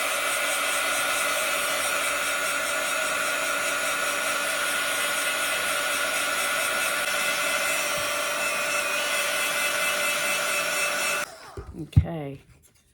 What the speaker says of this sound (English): So I get my dryer, so it's going to make some noise.